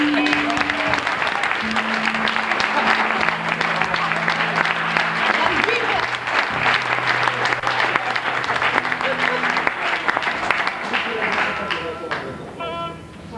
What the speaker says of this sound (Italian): Un applauso all'orchestra.